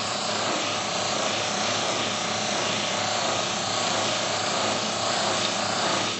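A polishing wheel loaded with fine compound buffs metal, giving a loud, steady whirring roar that holds unbroken for the whole stretch.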